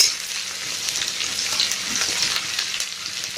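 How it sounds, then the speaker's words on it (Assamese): Onions sizzle and crackle in fully heated oil as they fry toward browning, a steady, close frying hiss throughout with no voices. "এয়া এনেকৈ ভাজিছোঁ, পিঁয়াজখিনি ৰঙা নোহোৱালৈকে এনেকৈ ভাজি থাকিম"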